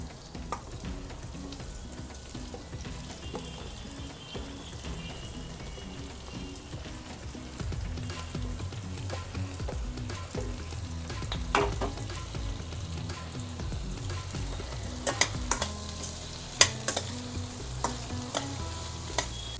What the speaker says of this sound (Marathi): आता ह्याच्यात तो कांदा टाकूया, कांदा भाजून घेऊया जरा.